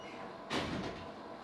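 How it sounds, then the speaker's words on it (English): In a small room with thin walls, a door slams in a neighbouring room as a single faint, muffled thud against a quiet background hum. "That door slam has me lose my train of thought."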